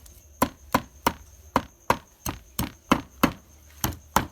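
Meat chopped on a board with a knife, about a dozen sharp, evenly spaced thuds in a quick steady rhythm, close and clear.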